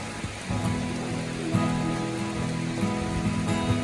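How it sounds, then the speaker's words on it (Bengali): Heavy rain pours down outdoors during a bicycle ride, a dense continuous hiss of drops hitting surfaces close by, steady and loud, with a low hum running underneath. "অনেক বৃষ্টি"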